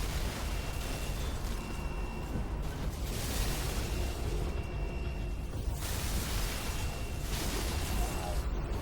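Sticky grenades go off in Halo 3 against infection forms, bringing a run of heavy, rumbling blasts that swell and fade over several seconds, loud and close, with no voices over them.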